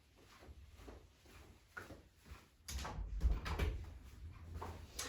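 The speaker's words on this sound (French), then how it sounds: "je ferme la porte" A door being closed indoors, a soft muffled thump and rattle of the panel swinging shut at moderate loudness, with faint shuffling before it and no talking.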